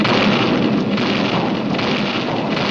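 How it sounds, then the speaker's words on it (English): Cartoon barrage of weapons firing: a dense, loud, continuous roar of blasts and rumbling explosions that blur together with no pauses. "huge batteries of weapons were leveled at Rocky and commenced fire"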